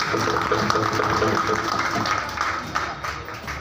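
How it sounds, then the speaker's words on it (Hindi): A crowd at an Independence Day public function applauds to welcome a local legislator, steady broad clapping from many hands under continuing amplified speech. "मैं चाहता हूं हमारे विधायक जी के लिए आप जोरदार तालियों से स्वागत करें"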